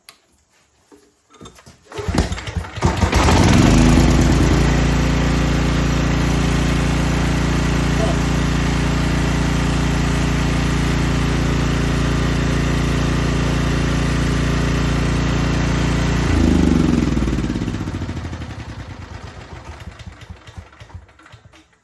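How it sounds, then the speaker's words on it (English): A portable generator engine catches after a pull-rope start and runs at a loud, steady idle for about fourteen seconds before winding down, with no talk over it. "I'm gonna fire it up again, see if I have to choke it or not."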